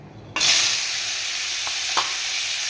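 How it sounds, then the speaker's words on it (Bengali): Bitter gourd pieces drop into a hot wok and burst into a loud sizzle that starts suddenly and holds steady, with a couple of faint clinks. "আমি উচ্ছেগুলো ভেজে নেব।"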